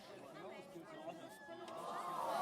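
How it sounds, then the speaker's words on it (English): A big crowd at a speed skating race swells steadily, the chatter and cheering building in loudness toward the end with a voice talking over it. "the crowd is getting crazier and crazier"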